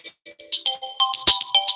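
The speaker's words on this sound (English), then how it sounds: "I really got to learn how to put this on airplane mode" A mobile phone rings with an incoming call, playing a short melodic ringtone of bright, rhythmic tones that repeat clearly and alone.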